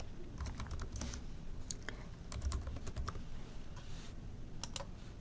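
Soft, quiet computer-keyboard typing as a job search term is entered, a brisk run of close keystrokes in irregular clusters with no talk.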